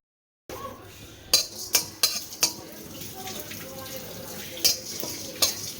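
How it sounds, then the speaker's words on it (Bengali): Cumin, coriander, cinnamon and black pepper dry roast in a wok: a metal spatula gives several sharp, close clinks and scrapes against the pan over a faint, continuous rustle of stirring. "শুকনো খোলায় এক মশলা ভেজে নেবো, গোলমরিচ, জিরে, ধনে আর একটা দারচিনি দিয়ে মশলাটা একটু লাল করে কড়াইতে ভেজে নেবো আগে"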